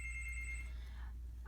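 A telephone rings faintly in the background indoors, a short electronic ring tone that trails off, low in level against a steady hum.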